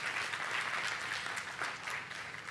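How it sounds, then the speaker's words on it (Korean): A church congregation applauds during a youth worship service, a dense, steady wash of many hands clapping that holds at an even level from start to finish, with no voices standing out. "우리 하나님께 영광의 박수 한번 올려드리겠습니다."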